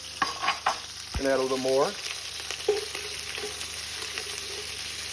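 Onions fry in a pan for turkey neck gravy, hissing and spattering up close while a spoon scrapes and stirs. Someone says a few words over the cooking.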